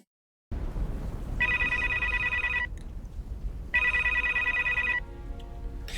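A telephone rings twice in a TV drama scene, each long electronic trill lasting about a second, separated by a short pause, with no talk over it.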